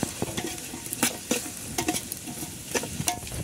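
Crab gravy being stirred in a hot pan, with repeated scraping strokes over a steady close sizzle of frying, and no talking.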